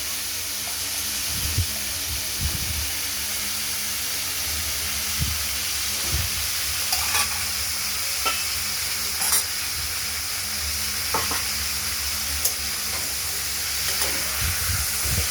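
Diced ash gourd frying in hot oil in a pan, a steady sizzle and hiss broken by occasional scrapes and knocks of a spoon stirring the pieces, close up with no talk.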